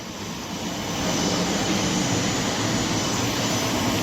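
A passenger airplane's engines at an airport during boarding, a loud steady roar that swells after the first second and holds, with no talk.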